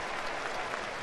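A big baseball stadium crowd of close to 50,000 at a Rockies game applauds in a steady, distant wash of clapping, fairly faint, with no talk on top.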